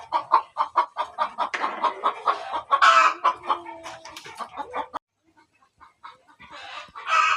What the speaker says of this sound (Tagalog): Ay, manok guys nga nag-itlog sa ilalom sa abuhan.